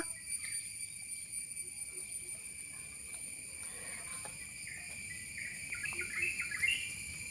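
Birds chirp and chatter off in the distance over a steady, high insect drone, with a few louder calls near the end.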